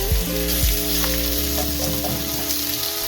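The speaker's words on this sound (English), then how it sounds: "I'm going to cook these on medium-high heat for about 4 to 5 minutes until they start to soften." Chopped onion and vegetables stir-frying in a pan over medium-high heat, a steady close sizzle with a few scraping stir knocks near the start, continuous throughout with no voices.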